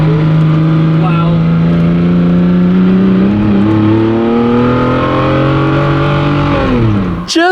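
A car powerslides on a mountain road in the Dolomites, its engine holding a loud, strained drone with shifting revs for several seconds before the pitch drops sharply, while someone talks over it.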